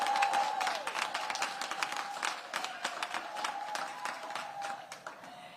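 A crowd at a school back-to-school event claps steadily for several seconds for the teachers, a dense patter of many hands that slowly thins out toward the end.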